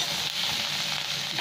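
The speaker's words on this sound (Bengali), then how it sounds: "গরম মশলা ফোটে নিচ্ছি" Whole garam masala, including bay leaves, dried red chillies, a cinnamon piece and small cardamoms, crackles in a little hot oil as a dense, even sizzle, close and steady, with no speech.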